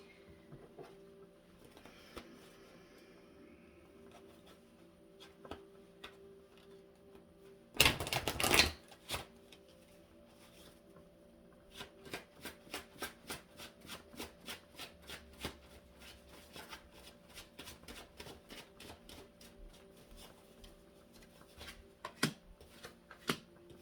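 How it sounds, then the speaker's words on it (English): Tarot cards being pulled and shuffled by hand, with a loud riffling burst followed by a long run of soft, uneven flicks and taps close up in a quiet room. "Let's pull some more cards."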